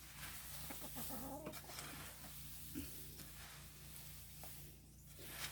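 A few soft chicken clucks sit over a constant low hum, faint and fairly close.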